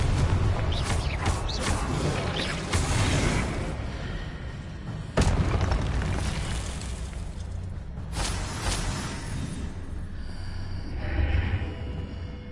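Confringo spell explosions in the Hogwarts Legacy video game, a dense run of booming blasts and thuds over continuous loud game action, with sharp impacts near the five and eight second marks.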